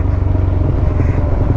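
Honda CB150X motorcycle ridden over a rough, potholed trail: a steady, close engine drone with clattering bumps running throughout, loud and continuous with no talk.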